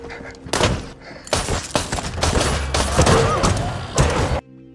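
A rapid volley of gunfire in a film shootout where two men shoot each other at close range, loud, dense cracks and thumps packed across several seconds before cutting off abruptly.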